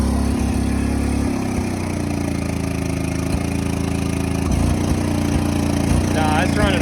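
A John Deere 425 lawn tractor engine idles roughly and unevenly, as if firing on one cylinder, with an irregular chugging pulse and a voice talking over it.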